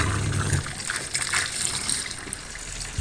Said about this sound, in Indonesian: airnya tetap dialirkan nanti sampai penuh melalui saluran pembuangannya